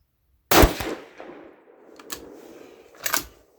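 A rifle chambered in 6mm ARC firing Hornady 65-grain V-MAX ammunition: one loud, sharp crack followed by a long fading echo, then a brief clattering mechanical burst near the end, with no speech.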